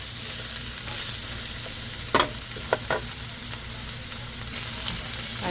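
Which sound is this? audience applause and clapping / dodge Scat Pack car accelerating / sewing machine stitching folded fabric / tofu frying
tofu frying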